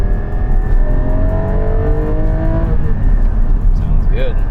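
A 2020 Porsche 718 GT4 engine revs at high RPM, loud and close, with a sustained rising wail and gear-change shifts in pitch, and a brief voice near the end.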